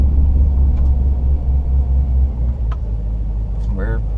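A car engine running inside the cabin after a camshaft install, settling quickly back to a steady idle at a stop sign; the low, continuous rumble is close and loud, with brief faint clicks and a short chirp near the end.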